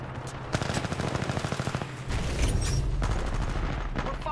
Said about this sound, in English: going up with the submachine gun here